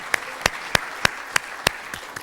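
A small church congregation gives a few sparse, evenly spaced claps, about seven distinct hand claps in a slow rhythm, fairly close and moderately loud.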